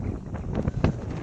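Gusty outdoor wind sweeps across a village farm plot planted with vegetables, giving a steady low rumble and buffeting against the microphone, with brief stronger gusts and no voices.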